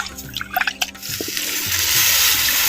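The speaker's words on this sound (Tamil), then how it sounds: "அரிசி அலைஞ்ச தண்ணியை அரை லிட்டர் சேர்த்துக்கிறேன்" Water left from rinsing rice, about half a litre, is poured into a pan of oil-fried masala for a yam curry, a growing steady splash and trickle that swells and holds after a few clinks.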